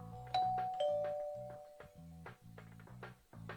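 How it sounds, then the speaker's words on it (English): Someone rings the doorbell at Sanjo's door, two bright chimes near the start followed by a repeating pattern of bell tones, fairly quiet and heard alone. "Praying that this would give me a lead, I rang Sanjo's bell."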